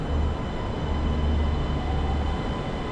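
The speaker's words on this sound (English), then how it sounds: "There goes the train." A Macau light rail train passing at a station, heard as a steady, dense rumble with a continuous roar of wheels and motors, loud and even for the whole moment, with no voices.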